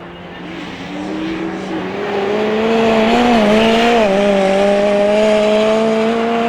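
Autograss race cars come round a dirt-track corner with loud engine drone, rising revs and a growing roar as the pack nears. A commentator talks over the noise.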